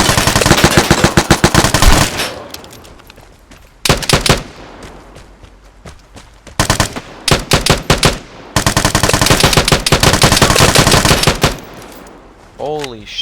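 Rapid bursts of automatic gunfire from a gun in the video game Vigor, loud and close, in several long strings broken by short pauses, with a brief voice at the end.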